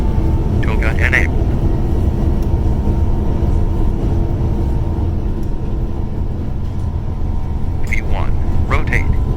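Simulated Cathay Pacific Airbus A350-900 jet engines spool up for takeoff from Hong Kong in a flight game, a steady loud rumble throughout with voices talking over it.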